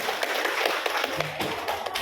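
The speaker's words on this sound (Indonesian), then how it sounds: "Tepuk tangan untuk kita semua." A group of high school students claps together in a classroom during a student presentation, giving dense, overlapping taps that run steadily for about two seconds at moderate loudness.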